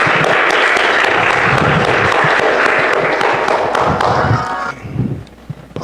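A church congregation gives a loud, dense round of applause during a Mother's Day communion service, many hands clapping together for several seconds before it thins out and fades.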